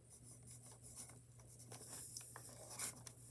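A pen scratches and rubs across homework paper in short, faint strokes over a steady low background hum. The writing is close and quiet, with no talking.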